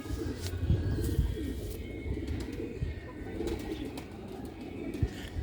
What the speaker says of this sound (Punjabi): 37 ਨੰਬਰ ਕਬੂਤਰ ਹੈ।